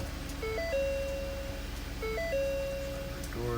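Inside a 2011 Ford Taurus SHO, a door-ajar warning chime plays a short repeating electronic melody, two identical phrases about 1.6 seconds apart over a low steady cabin hum.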